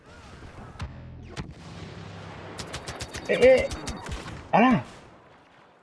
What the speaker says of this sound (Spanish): Creo que ha sido una ametralladora de estas que ponen en el suelo